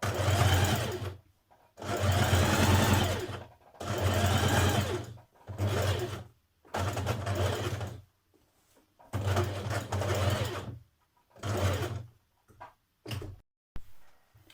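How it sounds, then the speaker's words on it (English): A sewing machine runs close along the edge of trousers in loud, repeated bursts of stitching with a deep motor hum, stopping and restarting several times with short gaps between runs. "Now stitch it in place. Stitch close to the edge."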